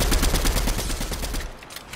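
Sustained rapid gunfire from the video game Fortnite Chapter 3, dense and loud, then thinning out near the end.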